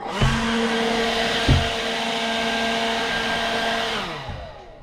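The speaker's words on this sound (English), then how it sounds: "I love this little blower." A small handheld blower runs steadily and close, a loud continuous whooshing whine with a couple of brief bumps before it winds down and fades out.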